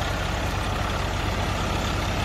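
A Swaraj 744 FE tractor engine drives a wheat thresher, a loud, steady diesel chug with fast low pulsing under a broad rushing roar of the threshing machinery, continuous and close.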